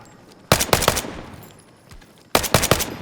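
Automatic gunfire rings out in the tactical shooter game Incursion Red River, coming as two loud, close bursts of rapid shots with a short gap between them.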